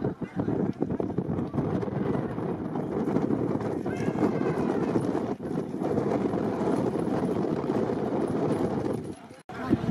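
Horse and bullock carts setting off in a rural cart race at Ambegaon, hoofbeats and running under loud gusting wind noise, with a commentator talking throughout.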